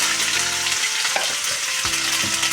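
Ground spices, cumin, coriander and salt among them, sizzle in hot oil in a pan over low gas, with steady crackling frying and brief stirring scrapes.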